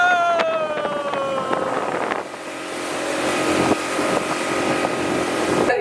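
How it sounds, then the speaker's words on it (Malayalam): A motorboat on the Alappuzha backwaters runs with a loud, steady engine drone, its pitch shifting as it turns, under strong wind noise and splashing. "ചരിച്ചും മറിച്ചുമൊക്കെ ഞങ്ങളുടെ ഡ്രൈവർ പല രീതിയിലാണ് ബോട്ട് കൊണ്ടുപോയത്"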